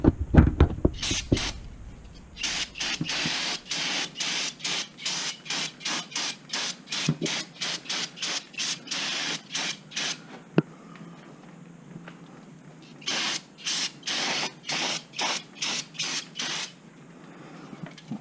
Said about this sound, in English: Throw one more quick spray down.